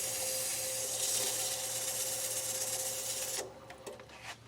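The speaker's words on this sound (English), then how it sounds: "I'm using some 180 grit here. Sand inside here." Steady, dense abrasive rasping from 180 grit sandpaper worked inside a handmade shaving brush handle, continuous and close for most of the clip before stopping into quieter scattered scrapes and taps.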